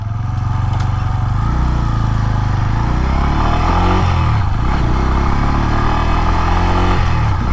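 A Bajaj Pulsar N125 motorcycle engine fires up and settles into a loud, close, steady idle with a low rumbling throb and slight pitch shifts as the revs dip and recover, no voices.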